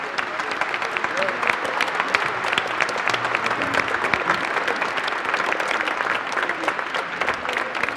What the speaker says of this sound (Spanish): por eso les damos un aplauso